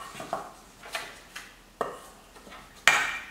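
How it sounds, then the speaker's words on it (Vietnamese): A spoon stirs salt and cooking oil in a bowl, giving a handful of separate scraping clinks at uneven intervals and a sharper knock near the end, close by and with no talking. "Ta đảo đều lên."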